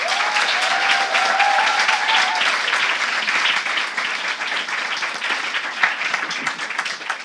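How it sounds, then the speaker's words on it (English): A conference audience gives loud, sustained applause to welcome a keynote speaker. The dense clapping continues for several seconds, with a brief tonal whistle or cheer early on. "Ladies and gentlemen, a big applause for Adanna Shallowe."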